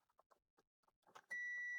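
A multimeter set to continuity mode, probing pins on an ISA expansion card, lets out a steady, clear electronic tone that switches on sharply and holds unbroken for about half a second after a few faint clicks of probing.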